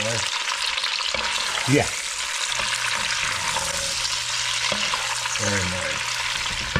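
Shrimp sizzle and fry steadily in a hot pan while being stirred for a spicy seafood linguine, a continuous bright crackle with occasional scraping, and a person briefly speaks over it.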